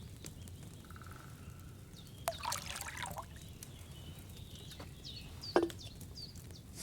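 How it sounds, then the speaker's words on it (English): A pitcher of wine poured into a cauldron in the medieval game Kingdom Come: Deliverance II: a short liquid splash and trickle, mid-distance, followed a few seconds later by a sharp knock over quiet ambience. "First, you have to pour the right base into the cauldron."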